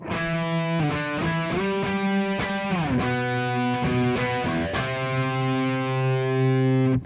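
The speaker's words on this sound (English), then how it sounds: "So what we're doing here is we're playing octaves." A distorted electric guitar plays a chugging octave riff, repeated sharp attacks shifting pitch in a steady rhythm, loud and sustained.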